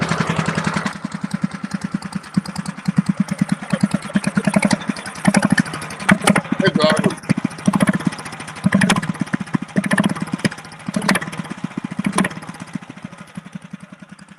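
A small motorcycle engine idles and revs nearby with a rapid, uneven putter, rising and falling throughout, while a person speaks briefly over it.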